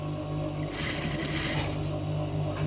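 A sewing machine stitches a zipper onto a sweatshirt jacket, running steadily and close up throughout, with a busier, brighter whir in the middle stretch.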